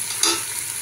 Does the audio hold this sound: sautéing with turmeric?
yes